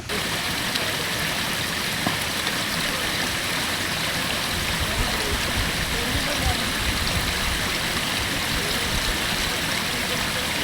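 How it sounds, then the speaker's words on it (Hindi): Waterfall along a monsoon trek, a steady broadband roar of rushing water filling the whole scene evenly and continuously, with a faint voice in the background. "वाटरफॉल दिख रहा है यार।"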